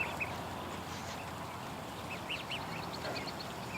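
Several ducks quack intermittently at a moderate distance outdoors, short nasal calls scattered over a steady background hiss with no talking.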